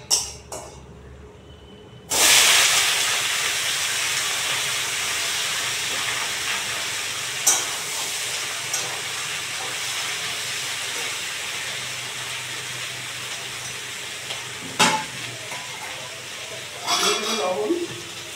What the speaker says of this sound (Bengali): এই যে 5 ফোড়ন দিয়ে দিচ্ছি। এবার শাকটাকে ছেড়ে দেবো।